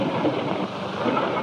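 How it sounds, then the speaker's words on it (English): Low thunder rumbles from an approaching storm, a loud, broad continuous roll with a hiss like rain or wind over it, heard alone without voices. "Hey, there's a storm coming up."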